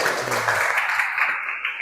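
Students in an Islamic religious education class clap together for a classmate, a short burst of brisk, even applause in a small room, with a faint voice at the start.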